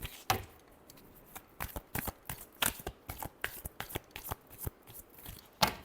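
A deck of cards is shuffled in repeated quick riffles and snaps, crisp bursts of papery clicks heard close and fairly quiet, with no voices.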